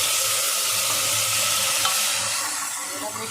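Tomatoes go into a pan of already fried onions, giving a steady, loud sizzle with some stirring throughout, with no talking.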